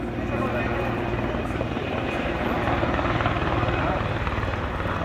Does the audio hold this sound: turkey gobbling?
no